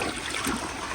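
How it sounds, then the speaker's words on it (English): A 2005 elongated Vitra toilet flushing: a dense, steady rush and gurgle of water running into the bowl, close and loud throughout a brief moment. "But here is another flush."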